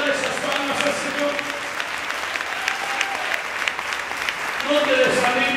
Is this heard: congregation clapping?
yes